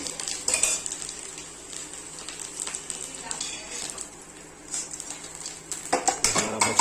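Fried potato pieces being lifted from the pan into another pot in a home kitchen, with metal utensils clinking and scraping against cookware in irregular bursts over a faint sizzle of oil.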